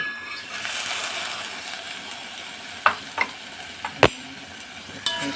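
Tofu is stirred into a simmering egg and saluyot soup in a pot, a steady bubbling hiss with a few sharp utensil clinks against the pot near the end.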